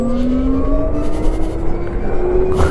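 An Oben Rorr EZ electric motorcycle accelerates hard, its motor whine rising steadily in pitch, loud and close over steady wind and road rumble.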